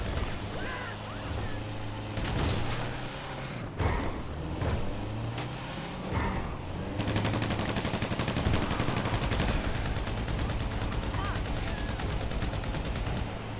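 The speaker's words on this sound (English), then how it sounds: "Good thing I have my combat machine gun handy" A combat machine gun rattles in GTA Online during a heist, sustained automatic bursts over a steady engine-like hum, with other gunfire and scattered chatter in the background.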